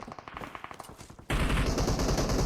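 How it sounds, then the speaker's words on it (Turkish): Loud automatic gunfire from players shooting each other in the video game PUBG, with rapid bursts that get suddenly louder and denser halfway through and fill the rest of the clip. "Adamlar gelmiş burada birbirlerine vuruyorlar."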